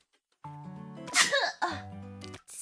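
A single sharp sneeze in a cooking-themed English listening livestream, preceded by a voiced intake and followed by brief vocal sounds, close and loud.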